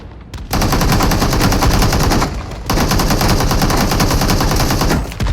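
Rapid automatic gunfire in the mobile battle game PUBG Mobile, two long loud bursts of fast, evenly spaced shots separated by a short pause, close and dominant with no talk.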